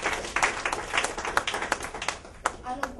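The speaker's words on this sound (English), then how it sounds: "can you applaud for him, please?" An audience at a media launch for the Asia CEO Awards claps, a close, busy patter of many hands with sharp individual slaps standing out, briefly and unevenly, with faint voices mixed in.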